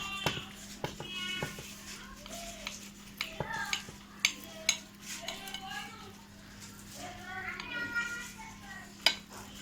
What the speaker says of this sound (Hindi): अब हम इसको जो है आपको काट के दिखाते हैं।